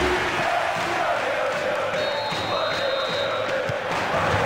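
Flamengo supporters chant and roar as a dense, steady crowd wash in a Bomba Patch 2020 football match on PS2, a continuous stadium bed with a faint high tone drifting over it.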